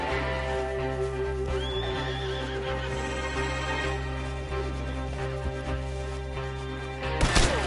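A horse neighs loudly over a steady, droning soundtrack in Red Dead Redemption 2, followed by a sharp thud near the end.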